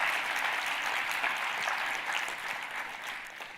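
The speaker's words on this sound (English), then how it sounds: "You can give yourself a round of applause." Applause from the audience at a speech at a young women's leadership summit, a dense, even wash of many hands clapping that carries on steadily and fades slightly toward the end.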